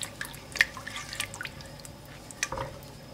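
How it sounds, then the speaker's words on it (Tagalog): Dissolved flour and cornstarch slurry poured into a pan of garlic, water, soy sauce and sugar, heard as faint, scattered liquid drips and small splashes in a quiet kitchen. "at yung tinunaw na harina at cornstarch para lumapot"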